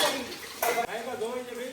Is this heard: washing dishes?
yes